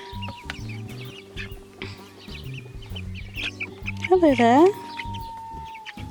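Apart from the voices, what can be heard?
chickens squawking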